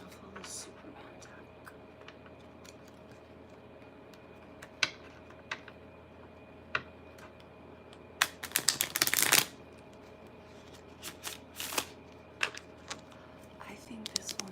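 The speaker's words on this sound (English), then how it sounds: "And then we'll shuffle the Superman deck." A Superman-themed playing card deck is riffled and shuffled in a quick, crisp burst of flapping cards near the mic, set among faint scattered taps and soft handling noises in a quiet room.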